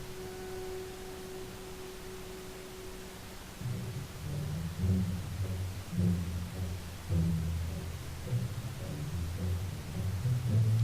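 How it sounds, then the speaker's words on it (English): Low, rumbling orchestral music plays steadily in the background, with a sustained tone at first giving way to rhythmic, pulsing low strings. "you should be able to hear that music playing in the background"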